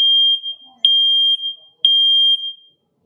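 A Nest Protect smoke alarm in test mode sounds a loud, piercing high-pitched tone in close, repeating on-off pulses, about three in quick succession indoors.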